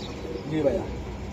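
Budapest pigeons give a brief, soft cooing burble amid a busy pigeon market, heard close and mid-level over a murmur of people talking nearby.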